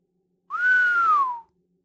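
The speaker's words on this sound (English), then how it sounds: "He whistled low as they entered." A man gives one clear, sustained whistle lasting about a second that rises slightly and then glides downward, close and alone against silence.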